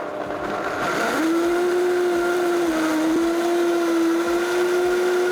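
A blender runs steadily at a high, even whine while blending a green sauce with added water or veggie stock, loud and continuous throughout.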